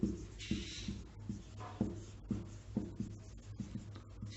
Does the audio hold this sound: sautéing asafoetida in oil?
no